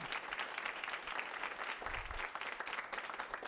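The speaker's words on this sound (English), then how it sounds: "Give him a round of applause." An audience at a university talk with a U.S. senator claps throughout in a steady, dense patter that sounds faint and distant.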